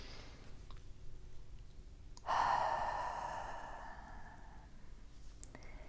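A single audible breath is drawn in, then let out in a long soft exhale that fades slowly, set against a quiet room hum without talking.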